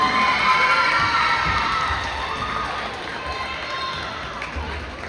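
Loud crowd cheering and shouting at a school eighth grade night in a gym, children's voices prominent, a dense roar that fades gradually over several seconds.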